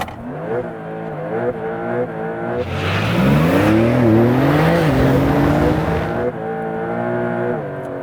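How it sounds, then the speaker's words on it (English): A Porsche 911 Turbo S T-Hybrid launches into a smoky burnout, its engine rising loudly through wavering revs as the tires squeal and roar for a few seconds before the sound eases back to a lower rumble. "That is, in fact, a smoky burnout."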